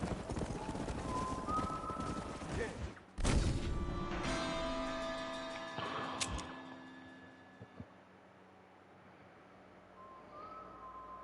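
Hooves clatter quickly as horses gallop in the video game Red Dead Redemption, with a horse whinnying, a sharp bang, and music playing underneath before the hoofbeats fade.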